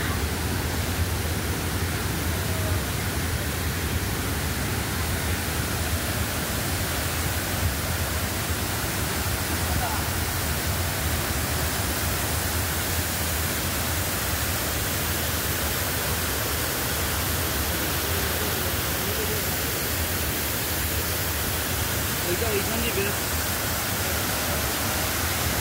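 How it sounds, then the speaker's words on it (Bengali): Rimbi waterfall near Pelling roars as a constant, even broadband rush of falling water, loud and unbroken throughout with no change in intensity. "চলুন ফলসটাকে আরও একটু কাছের থেকে দেখে নিই"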